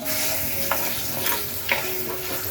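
Chopped tomato and curry leaves sizzle in a pan with golden-brown fried onion for a village-style chicken dish, a steady hiss punctuated by a couple of scraping stirs, no talking.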